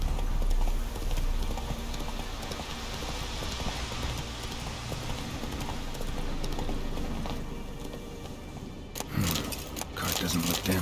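Roach the horse trots along in The Witcher 3, its hooves clip-clopping in a steady rhythm that carries through nearly the whole stretch before brief clattering near the end.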